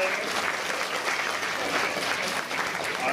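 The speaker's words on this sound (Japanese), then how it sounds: "みんな拍手を送ろうぜ。" A live theater audience at Tokyo DisneySea's Turtle Talk show claps steadily for about three seconds, a dense, even wash of many hands that stays near and fairly loud throughout.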